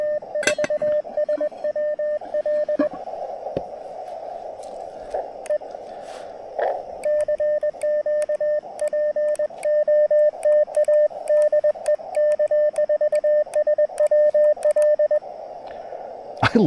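Amateur radio operator calling over the air during a late-night portable QRP activation on 80 meters, heard as steady Morse-like keyed tones in short bursts over a hissy band with crackles and static pops.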